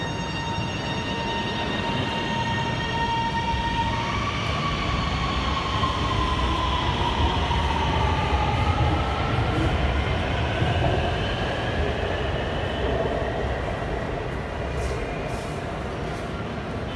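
A Lahore Orange Line metro train in Pakistan runs steadily with a loud continuous rumble and rising electric whine, the motor pitch climbing then settling as it travels; no voices.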